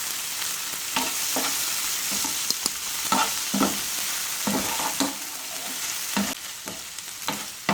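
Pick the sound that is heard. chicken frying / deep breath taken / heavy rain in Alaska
chicken frying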